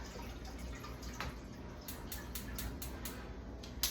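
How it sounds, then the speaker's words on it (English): Water pours steadily into a pot sitting on a stove while soursop tea is being made, a continuous close splashing and trickling with no talk over it. "I have my pot already on the stove, and we're gonna go ahead and add the water."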